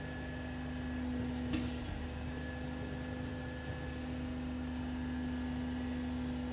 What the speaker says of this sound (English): I'm sorry that this truck outside is really